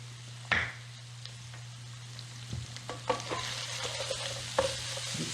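A stuffed pepper filling gets stirred with seasoning in a pan: quiet scraping and intermittent utensil taps over a faint sizzle and a steady low hum.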